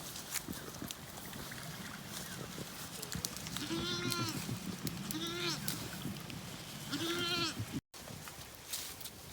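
Goats clearing brush around a pond bleat several times, loud and fairly close, over constant outdoor rustle and background noise.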